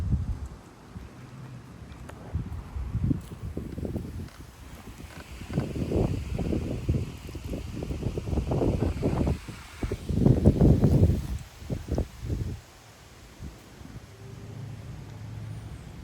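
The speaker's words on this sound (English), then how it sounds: "we're just getting some strong wind gusts today." Strong gusts of wind in Frisco, Texas, hit hard in heavy, booming surges that rise and fall several times, loud and close, before settling to a softer steady blow.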